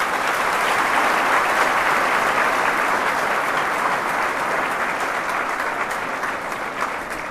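An audience at a talk claps steadily, dense sustained applause that holds at full strength and tapers only slightly toward the end.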